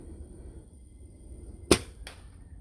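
An FX Maverick .22 airgun fires a single sharp, loud shot at a laptop in bitter cold outdoor weather, followed by a fainter second crack, with a low wind-like rumble underneath.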